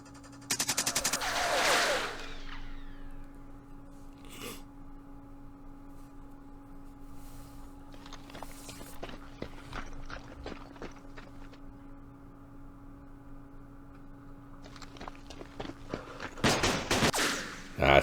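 Gunfire in the Vietnam War strategy game Campaign Series Vietnam, set at the 1968 Battle of Ba Ria: a loud crackling burst at the start, scattered sharp shots through a low steady hum, and another burst closing it.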